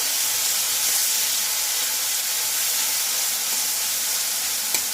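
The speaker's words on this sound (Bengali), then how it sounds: "চিংড়ি মাছটা একটু ভেজে নেব" Prawns fry in a little oil with a constant close hiss and sizzle, steady throughout, with one faint tap near the end.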